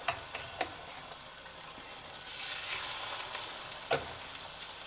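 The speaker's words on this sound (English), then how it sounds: "When you put it in, you want to hear a nice little sizzle" Steaks for ropa vieja sear in hot oil in a pan on a fast-heating stove, giving a soft, continuous sizzle with a few sharp pops and crackles, fairly quiet throughout.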